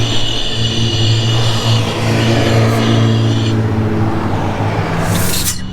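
A Unimog engine with a leaking foot brake valve and low air pressure revs hard and steadily, a loud, close mechanical roar with a strong low drone holding throughout and a brief rise near the end.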